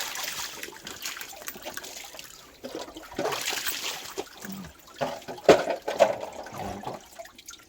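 Water from a residents' well poured and splashed while washing, a trickling, splattering flow that grows louder and busier toward the end.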